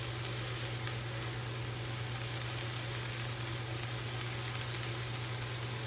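Vegetables for jambalaya cook in leftover fat in a pan on the stove, giving a steady, faint, continuous sizzle with a low constant hum beneath it and no speech.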